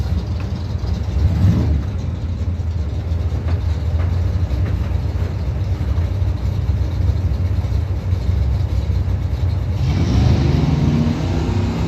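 Chevy and Ford drag racing cars roar down the strip at Mopars Against the World, a loud, sustained engine rumble that rises again near the end as another car launches.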